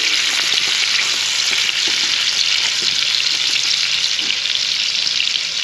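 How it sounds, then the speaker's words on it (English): Whitetail deer loin searing in a hot pan at an outfitters camp, a loud, steady hiss of sizzling fat that holds constant throughout with faint crackles underneath. "We're gonna let that sear on that side for a minute or two."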